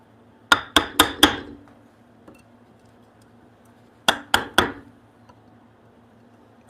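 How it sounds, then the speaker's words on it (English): A chisel is struck against the bark edge of a wooden stump table, ringing sharp taps in two quick bursts of four then three, each hit bright and close, with quiet between. "I'm gonna actually take my chisel and punch some of that stuff out of there"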